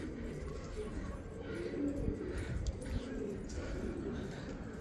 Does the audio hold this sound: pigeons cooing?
yes